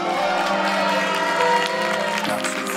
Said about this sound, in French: S'il vous plaît, faites un tonnerre d'applaudissements.